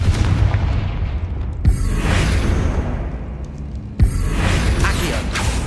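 Two sharp Confringo fire-blast explosions in Hogwarts Legacy, each a sudden booming crack followed by a crackling, rushing tail, spaced a couple of seconds apart.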